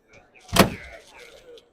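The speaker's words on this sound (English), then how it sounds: "And the door shut." The car door of a handbuilt Deco-style roadster shuts with a single close, solid thud, followed by faint rattling and quiet room sound.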